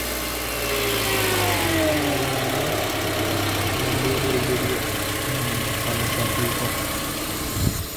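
A stock Honda Odyssey engine runs steadily with light, gentle throttle blips, a continuous mid-pitched hum close to the microphone with slight rises in pitch and no voices.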